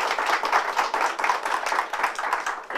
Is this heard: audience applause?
yes